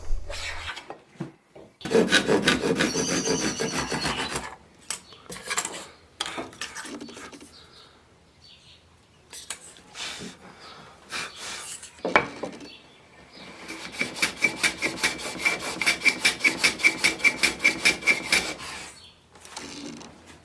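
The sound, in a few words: planing thin wood veneer with a block plane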